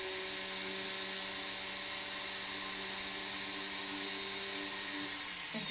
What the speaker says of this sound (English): you don't want to drill this hole before bending it because it'll distort the hole